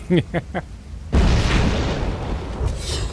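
A grenade detonates in Fable 3 with a loud, sudden boom after a few short spoken words, followed by a long rumbling decay that lingers for a couple of seconds.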